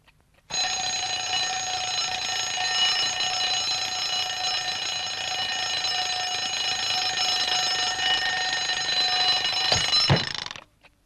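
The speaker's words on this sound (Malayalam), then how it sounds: "ഇതെന്തിനാ ഇപ്പൊ അലാറം അടിക്കുന്നു?" A bell-type alarm clock rings continuously and loudly for about ten seconds, with a steady unbroken metallic clangour, then abruptly stops.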